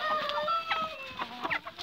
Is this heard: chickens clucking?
yes